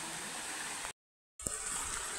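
A river flowing outdoors with a steady, close broadband rush of water, broken by a brief total dropout before the flow resumes.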